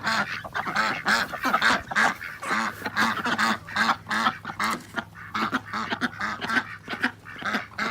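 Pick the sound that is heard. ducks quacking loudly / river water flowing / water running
ducks quacking loudly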